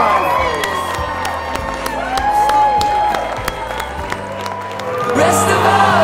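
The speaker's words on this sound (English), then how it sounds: "on occasions such as these, it's appropriate to show our approval with our applause." Wedding guests at Mission San Juan Capistrano cheer, whoop and clap for the newlyweds, a loud lively crowd with children's shouts and some voices mixed in, with music-like tones running underneath throughout.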